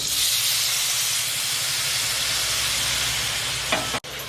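Loud, steady sizzling and hissing from a hot pan as drumstick-boiling water is poured in for a drumstick curry, continuing without pause before a brief clatter near the end.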